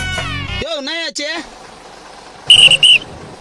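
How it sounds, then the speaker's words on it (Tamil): On a city bus, the conductor blows a whistle in two short, shrill, piercing blasts close by, following a voice and sung tones at the start. "அடிக்கடி விசில் வச்சுருக்கிற?"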